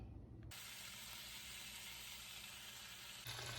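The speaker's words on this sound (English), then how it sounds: "I'm going to fry up all of the bacon that I'm going to use for the whole week all at once" Bacon sizzles in a frying pan, a steady, faint broadband hiss that holds evenly throughout, with a slight shift in texture near the start and end.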